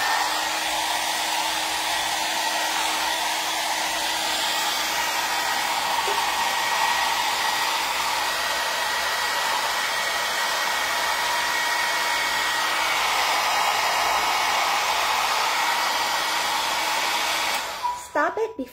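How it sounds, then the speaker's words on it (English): A hot air brush dryer runs with a loud, steady whooshing roar and motor whine for a long stretch, then cuts off abruptly near the end with some handling clatter. "you don't want to have the hairbrush dryer going on while you're pulling your hair out"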